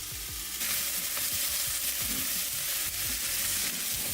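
Food cooking down in a hot pan while rice dishes are prepared, a dense, loud, steady hiss of sizzling with faint rhythmic stirring underneath, no speech.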